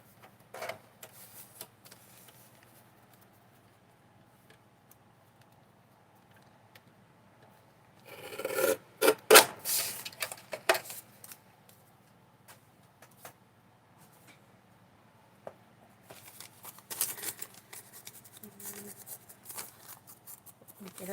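Scissors snipping off the extra flat part of a craft piece, two short bursts of close cutting and rustling separated by quiet stretches, with faint soft talk in between.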